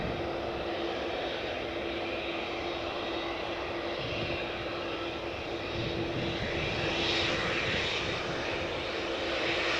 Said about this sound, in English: This is KLM Flight 605, 787-10 Dreamliner going to San Francisco